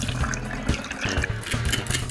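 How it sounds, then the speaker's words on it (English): Liquid pours steadily into a spray bottle as an orange oil and vinegar household cleaner is diluted with an equal amount of water. The gurgling flow is close and continuous, with no talk over it. "pour the liquid into a spray bottle and dilute it by adding the same amount of water."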